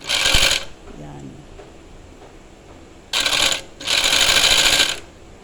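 A portable pedal-driven sewing machine stitches in short bursts: a brief rapid run, a long quiet gap with faint handling clicks, then two more whirring runs close together.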